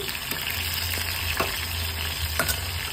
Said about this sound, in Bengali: এখানে দেখো বেগুনগুলো ফার্স্টে একটু ভেজে নিচ্ছি